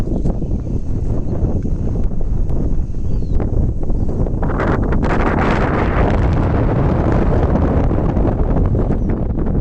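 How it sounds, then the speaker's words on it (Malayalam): Strong wind blows at an outdoor viewpoint during an off-road outing, buffeting the microphone with constant loud, rough roaring from start to finish. "നല്ല കാറ്റുണ്ട് കേട്ടോ."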